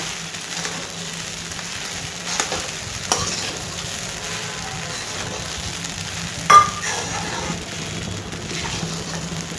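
Sabudana (tapioca pearls) being sautéed in a pan for khichdi: a soft continuous sizzle runs throughout, broken by a few light scrapes and clinks of a spoon stirring against the pan, with one sharper knock near the end.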